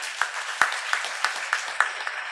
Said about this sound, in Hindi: ये ताली मेरे लिए नहीं है, हमें भारत को विश्व गुरु बनाना है, इसलिए ताली है. जोर से बजाओ.